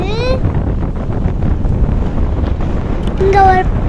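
Strong, cold wind blowing across an open lawn in a hill-station pine forest, a rough continuous rumble of gusts buffeting the microphone, with brief high whistling or voice-like sweeps at the start and near the end.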